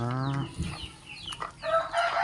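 Native chickens in a backyard flock of some forty birds cluck and crow close by, with a rooster's drawn-out crow at the start and busy overlapping clucks after it.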